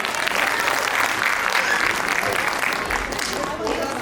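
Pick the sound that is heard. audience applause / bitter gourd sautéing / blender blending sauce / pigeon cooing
audience applause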